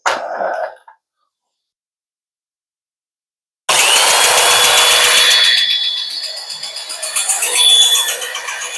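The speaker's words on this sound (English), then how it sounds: "to grind it as square as I can" After a short burst and a few seconds of silence, a power tool kicks in loudly and grinds a part of a Dewalt DCS573 circular saw, a harsh high whine that dips and swells up close.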